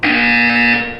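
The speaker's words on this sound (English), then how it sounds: "You will hear a buzzer." A single loud electronic buzzer from the video game Portal 2 sounds as one sustained harsh tone lasting about a second, then tails off. It plays alone, with no voices over it.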